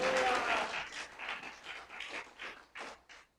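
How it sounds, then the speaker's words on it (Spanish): A church congregation applauding, loud clapping at first that breaks into separate fading bursts of claps. "Aplaudan fuerte si lo van a hacer con todo el corazón."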